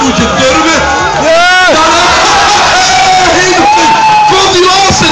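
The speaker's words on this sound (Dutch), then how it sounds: "Fantastisch applaus." A Dutch darts event crowd at SM Limburg 2012 erupts in loud, sustained cheering and whooping, a dense roar of voices that swells and holds throughout, with a commentator's voice running over it.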